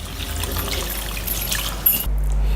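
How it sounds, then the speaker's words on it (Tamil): Poha (flattened rice) rinsed in water in a bowl, a steady trickling slosh of liquid running for about two seconds, close and fairly loud, ending abruptly into a low hum. "2 கிண்ணத்துலேயும் கொஞ்சம் அவல் போட்டு நான் அலசிக்கிறேன்"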